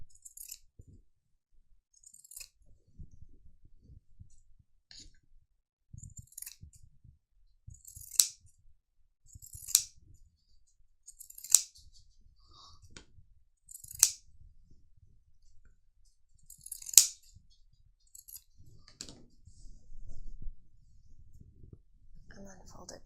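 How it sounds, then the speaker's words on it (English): Pinking shears snip through fabric to trim a seam allowance on a sewn top, making a string of crisp, quiet crunching cuts at irregular intervals in a hushed room, with soft handling noise between them. "Just gonna pink my seam allowance so that it's not gonna fray"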